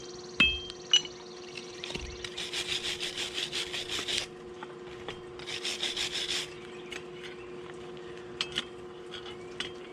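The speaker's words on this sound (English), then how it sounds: "the wire brush just removes the scale" Wire brush scrubbing scale off hot forged steel at a blacksmith's anvil, two bursts of rapid rhythmic raspy scraping strokes with a few light metallic clinks before and after, fairly close, no talking.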